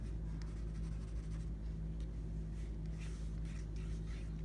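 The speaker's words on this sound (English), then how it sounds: "Do you know what I'm drawing right here?" A pen drawing on an inflated balloon, sketching a tiny figure and mushroom, gives faint scratchy squeaks in short strokes over a steady low hum, with no talking.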